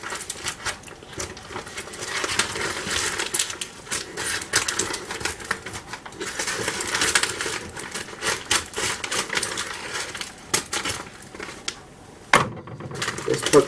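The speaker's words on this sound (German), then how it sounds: "Ich bin bewaffnet mit einer Schere und einem Paket. Ich muss jetzt schauen, wie ich es aufmache" Scissors slice through a heavily taped package, a steady run of crackling, snipping and rustling cardboard and tape up close, with a few short pauses.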